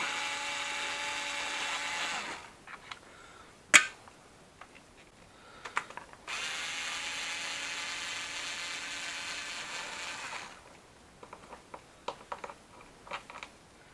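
Compact power ratchet gun spinning bolts off a Mini Cooper R56 rocker cam cover: two sustained whirring bursts, each several seconds long, separated by a quiet gap with scattered clicks and clunks.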